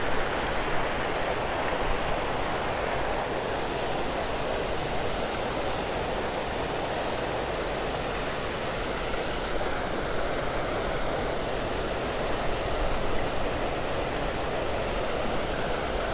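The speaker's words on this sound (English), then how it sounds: "So here's the weir." Water pours steadily over a weir in a rural country park, a continuous loud roar of falling water with no pauses or voices.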